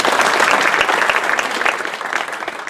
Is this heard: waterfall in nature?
no